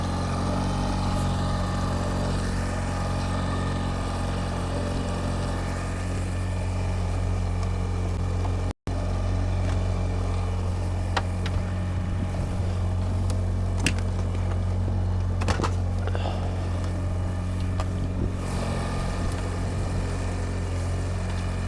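Boat engine running steadily with a low droning hum and rumble, held fairly constant throughout with only slight shifts, continuous and close with no talk.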